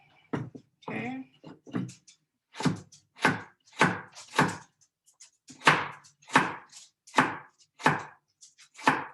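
Close knife chopping of carrots into little squares for fried rice, about fifteen sharp, evenly spaced strikes on a cutting board in a quiet kitchen, with no talk.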